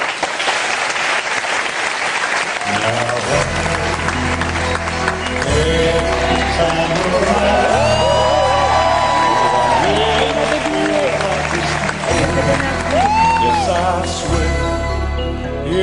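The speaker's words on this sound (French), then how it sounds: "Mais d'abord, sous vos applaudissements, une belle démonstration." Studio audience on a French TV game show applauds and cheers, the clapping loud at first and then continuing beneath bright music with a strong beat that soon dominates.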